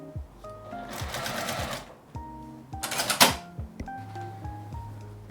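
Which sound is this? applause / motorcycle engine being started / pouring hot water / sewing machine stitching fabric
sewing machine stitching fabric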